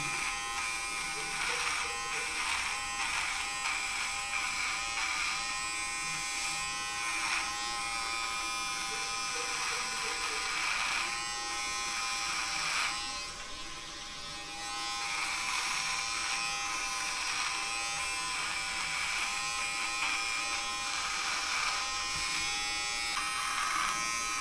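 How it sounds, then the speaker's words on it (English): A Xiaomi Uniblade electric trimmer buzzes steadily and close while trimming a neck, a continuous whirring drone with one brief dip partway through, with a voice talking faintly underneath. "the trimmer seems to be more flexible, gliding through my neck"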